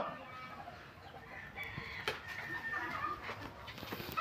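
Chickens cluck faintly in an outdoor setting with background noise, with a few scattered squawks and some distant animal sounds.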